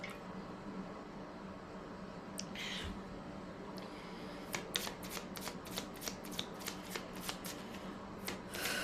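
Tarot cards for a romance reading being shuffled by hand, a soft steady riffling that turns into a run of crisp, evenly spaced card snaps toward the end, close up with no talking.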